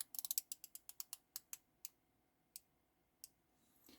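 Rotating dive-watch bezel on an Omega Seamaster or Zelos Swordfish, turned by hand: a quick run of crisp, close ticking clicks that slows into a few spaced single clicks, quiet and alone.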